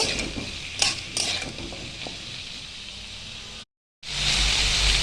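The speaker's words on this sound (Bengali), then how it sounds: "তারপর দিয়ে দিলাম কেটে রাখা আলুগুলো আর টমেটো কুচি। আমি ভালো করে 2 মিনিট কষিয়ে নেব।" Cut potatoes and chopped tomato sauté in a pan with dried chilli and cumin, a continuous sizzle broken by a few spatula clinks and scrapes, then a brief gap before the frying resumes.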